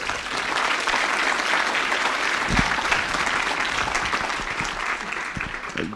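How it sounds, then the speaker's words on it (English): An audience at a real estate fireside chat gives George Yeo a big round of applause, a sustained, fairly close roar of clapping with a few sharper individual claps standing out. "A big round of applause for Mr. George Yeo."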